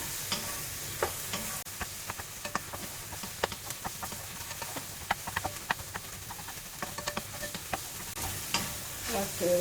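Eggs sizzle softly in a hot pan while a spatula stirs them, with quick irregular scraping taps over a faint steady hiss, cooked as the start of char kway teow with flat rice noodles.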